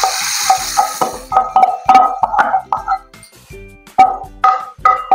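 Fried onion tadka going into a pot of Lahori moong masoor red lentil dal, heard as close, uneven stirring and scraping clatters with light sizzling between the strokes.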